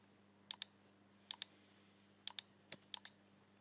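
Letter keys tapped on a computer keyboard while working in SketchUp, heard as four quick pairs of sharp clicks with short gaps between them, close and clear over a faint steady hum, with no talking.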